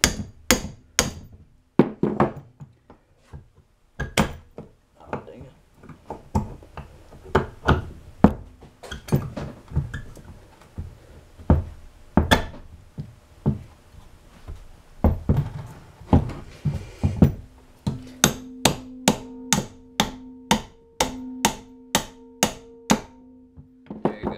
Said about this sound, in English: take a hammer or mallet, whatever, and get them in